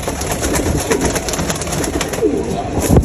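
Pigeons coo repeatedly close by in a pigeon fancier's loft, soft rolling calls overlapping against a steady background hum.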